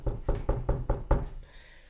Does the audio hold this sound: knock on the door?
yes